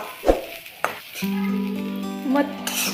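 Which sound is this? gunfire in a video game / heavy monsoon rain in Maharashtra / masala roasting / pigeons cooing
masala roasting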